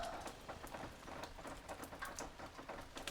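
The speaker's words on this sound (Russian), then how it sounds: "О, наконец-то дождик." Steady rain patters on a surface outside a house with an unfinished porch, a dense continuous hiss of drops with small irregular taps throughout, fairly quiet and alone without voices.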